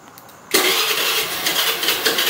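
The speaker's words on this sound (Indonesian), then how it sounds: "Saya menyalakan motor saya dengan remote." A motorcycle engine fires up by remote starter after a quiet half-second, then settles into a steady, fairly loud idle that holds to the end.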